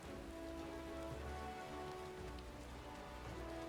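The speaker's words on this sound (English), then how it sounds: "it's pouring rain" Steady pouring rain in the game Final Fantasy XIV, a dense continuous hiss of drops on surfaces with low rumble beneath, alone and unbroken throughout.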